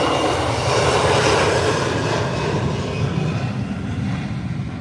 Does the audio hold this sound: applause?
no